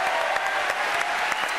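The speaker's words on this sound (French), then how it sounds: "Applaudissements pour Franck Schlesinger, mesdames, messieurs." A television studio audience claps loudly and steadily in a short, continuous burst of applause.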